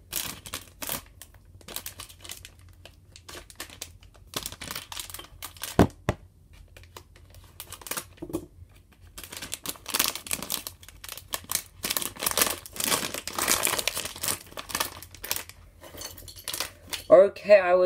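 A plastic Lego Disney Series 2 minifigure blind bag is torn open from the top, giving scattered crinkles, rips and rustles of thin plastic with small clicks of loose parts, close and fairly quiet.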